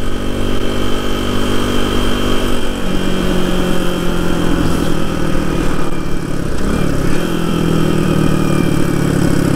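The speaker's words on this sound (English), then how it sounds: "See how the little DR200 handles" A small Suzuki DR200 motorcycle cruises on a highway, its single-cylinder engine droning loudly and steadily with a shift in pitch partway through, mixed with constant wind rush.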